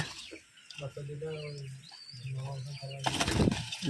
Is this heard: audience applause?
no